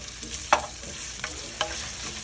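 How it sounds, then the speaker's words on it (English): Bacon fries in a pan with a bright, constant crackling sizzle, close and fairly loud, broken by a few brief scrapes of a utensil. "Let that bacon cook for a second."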